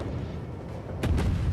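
A heavy naval gun booms once partway through a World of Warships-style naval battle game, loud and deep over a steady engine and sea rumble.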